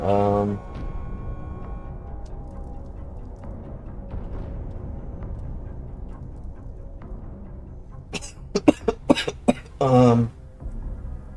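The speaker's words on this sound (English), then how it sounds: "I'm gonna be coughing a lot this stream." A few sharp coughs in a quick cluster, followed by a longer throat-clearing burst, against a quiet room hum.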